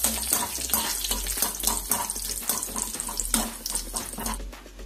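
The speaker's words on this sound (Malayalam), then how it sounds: "നമ്മുടെ കറിവേപ്പില ഒന്ന് പതുക്കെ ഫ്രൈ ചെയ്തെടുക്കാം" Curry leaves fry in hot oil for Kerala mixture, a loud crackling, spattering burst of close bubbling pops that keeps up in uneven surges and eases slightly at the end, with no one speaking.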